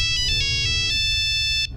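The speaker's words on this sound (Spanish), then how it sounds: "de repente fueron interrumpidos por un celular, el de Lorena." A mobile phone rings loud and close with a bright, steady electronic ringtone that cuts off near the end.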